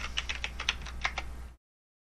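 Keystrokes on a computer keyboard while entering a reboot command during an Arch Linux install in a virtual machine: a quick run of about a dozen crisp, close clicks over a low hum, stopping abruptly halfway through.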